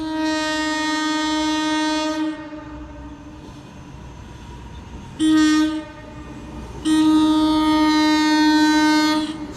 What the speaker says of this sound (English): It's a train headed west to Gladstone, and it's operating on electric.